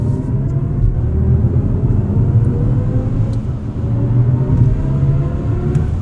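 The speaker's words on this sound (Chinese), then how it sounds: "它會給你這種宇宙飛船的起航聲音" A BMW i5 eDrive40 M Sport accelerating in Sport mode, its Hans Zimmer IconicSounds Electric synthesized spaceship-style tone playing as a steady, deep droning hum with a slight rise, close and continuous.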